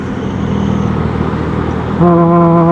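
Busy road traffic rushes past a Yamaha Mio J scooter during a top speed run, a steady roar of many cars with a loud, sustained vehicle horn blaring near the end.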